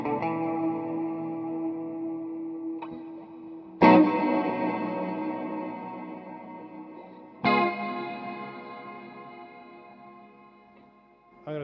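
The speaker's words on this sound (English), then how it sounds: "the flanger setting." Guitar chords run through the flanger setting of a Cuvave 9 Type reverb pedal, three strummed chords ringing out with a sweeping, swirling modulated shimmer, each decaying slowly into a whooshing tail.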